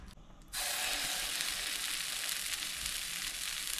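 Oil heating in a frying pan bursts into a loud, steady sizzle after a brief quiet moment, hissing continuously up close.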